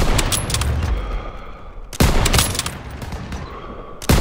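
Close, loud bursts of rapid gunfire in the World War II shooter Call of Duty WWII, with repeated volleys cracking out in quick succession and sharp new bursts starting about every two seconds.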